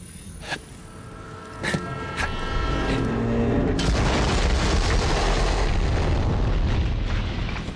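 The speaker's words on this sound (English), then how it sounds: "Explosion echoed through the forest, and those devil riders didn't even get a chance to hit the brakes." Explosion in the video game Borderlands, Bounty of Blood DLC, set in a forest: a few sharp bangs, then a loud, rumbling blast that keeps roaring and echoing steadily for several seconds.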